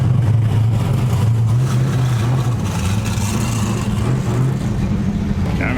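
An LS-swapped Mazda Miata, revived after sitting, idles with a deep steady rumble and a lopey throb, loud and close throughout.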